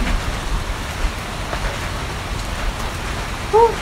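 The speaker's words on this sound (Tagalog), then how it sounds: "Lakas naman ng ulan." Heavy rain pours down steadily outdoors, a dense continuous hiss close by, with a brief louder rush near the end.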